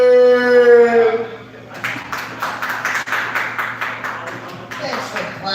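Comedy club audience clapping after a comedian is introduced, a scattered burst of applause from a modest crowd following a drawn-out announcer's shout, and it fades into lighter patters and a few voices.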